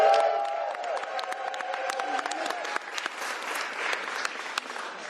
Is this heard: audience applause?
yes